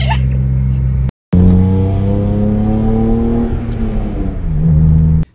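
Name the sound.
BMW E36 323i coupe accelerating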